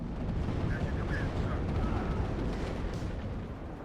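Demolition charges exploding in an M1A1 Abrams tank video game, a steady rumbling barrage of blasts and low booms filling the whole stretch at moderate loudness.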